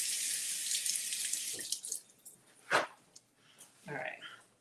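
Tap water runs steadily over a bunch of green onions being rinsed at a kitchen sink, a continuous hiss with a few brief splashy bursts and a faint sound or two near the end.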